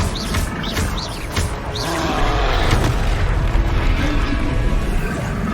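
Confringo explosive spell blasts in the video game Hogwarts Legacy, heard as a dense, loud, sustained rumble of magical impacts and booms, with bright crackling and whooshing accents layered over continuous combat noise.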